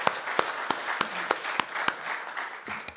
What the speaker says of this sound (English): Please, friends, a warm round of applause for Bamba-san.